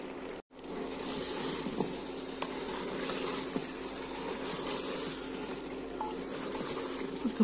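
Whole fennel seeds, black and green cardamom and a cinnamon stick frying in a pan for a Kashmiri turnip-and-meat dish, a steady soft sizzle with faint crackles running throughout, close and even.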